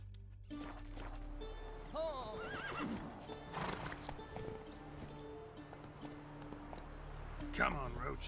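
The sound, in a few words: horse Roach galloping and neighing, from video game The Witcher 3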